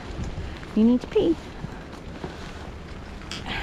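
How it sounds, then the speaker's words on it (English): Rain and stormy weather outdoors during a dog walk, heard as a steady broadband wash of rainfall and wind noise beneath a person's nearby speech. "Yes, it's raining."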